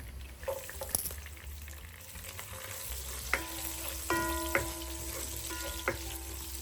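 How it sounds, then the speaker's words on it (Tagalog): Garlic sautés in a pan for a pork belly adobo, with a soft continuous sizzle and a few sharp utensil clinks and taps against the pan. No voices are heard. "magigisa na tayo. Unahin natin ang bawang"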